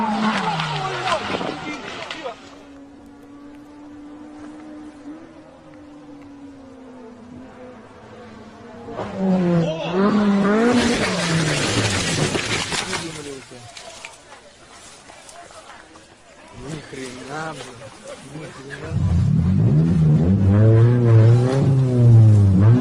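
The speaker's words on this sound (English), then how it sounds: "When the VTEC kicks in." A sports car engine revs hard in loud surges with rising whining pitch, broken by quieter stretches, and voices talk over it.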